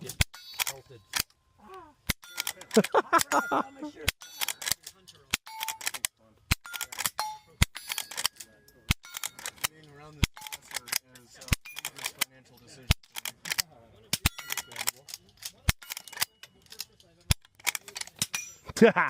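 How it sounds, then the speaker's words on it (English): Suppressed .22 lever-action rifle shots at an outdoor shooting event, a long string of sharp, moderately loud cracks at irregular intervals, some in quick bursts, with people talking and cheering between them. "Suppressed 22 lever action."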